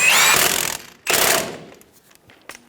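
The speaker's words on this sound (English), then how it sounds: "Snug the nut down." An impact or power tool snugs down a sway bar link nut on a 2005-2010 Toyota Tacoma: two loud rattling bursts, the first nearly a second long, then a shorter one, followed by faint clicks.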